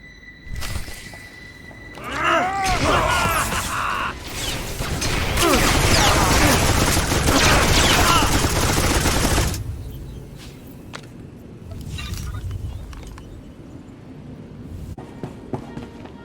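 Blaster gunfire breaks out in Star Wars: The Old Republic, a dense, loud burst of rapid shots and crackling impacts lasting several seconds, with characters talking around it and scattered sharp effects after it dies down.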